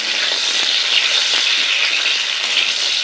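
Pointed gourd fries with potatoes in plenty of hot oil, a loud, even, close sizzle that continues without a break.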